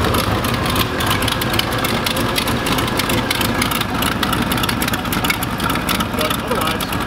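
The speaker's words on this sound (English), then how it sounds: "I think it sounds a little bit better, but it still has leaks as I was expecting." A Chevrolet IROC-Z engine idles steadily with a leaky exhaust, giving a constant rumbling drone with a broadband hiss that holds at an even level throughout.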